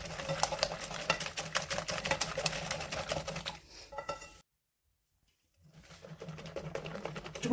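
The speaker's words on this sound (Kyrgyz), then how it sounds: "И сахар эригенче аралаштырабыз." Eggs and sugar with a pinch of salt stirred together in a bowl for quick homemade cookies, a dense run of close, rapid scraping and clicking strokes that breaks off into silence, then resumes.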